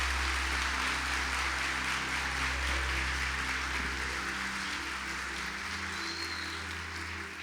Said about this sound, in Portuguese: aplaude a Ele o mais forte que você puder.